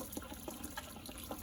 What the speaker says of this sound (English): see that water's been running?